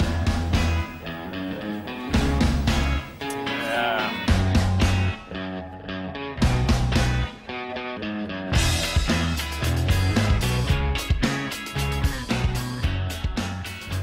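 An indie rock song plays loudly with driving drums, bass and guitars, steady throughout with no talking over it.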